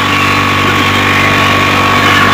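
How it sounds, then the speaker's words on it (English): A loud, steady Yamaha Rhino UTV engine with an exhaust leak, a constant rumbling drone and a persistent raspy hiss, unchanging throughout. "We've got a little bit of an exhaust leak right now going on with our Rhino."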